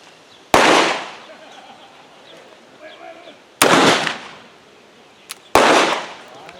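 Pietta Colt .44 Navy black powder revolver fired at a target outdoors: three loud, sharp shots spaced a few seconds apart, each with a booming decaying tail, with quiet movement between them.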